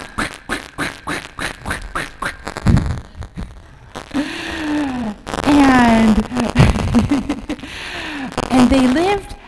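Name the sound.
voice imitating a duck quacking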